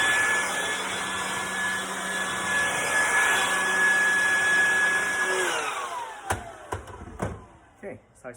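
A hair blower blasts cut hair away during a home haircut with clippers, making a loud steady whooshing hum with a faint whine that winds down after about five seconds, followed by a few handling knocks and clicks.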